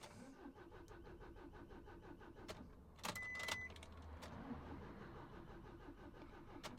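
A 2013 Nissan Qashqai 1.6 dCi diesel with a weak battery cranks with a rapid, faint rhythmic churn, then catches with a short louder burst of starting noise before settling into a low idle.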